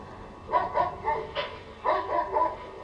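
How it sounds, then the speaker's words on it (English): A dog barks in a run of bow-wow yelps, four quick barks then a pause and three more, fairly close and moderately loud, with no talk over it. "That's a dog!"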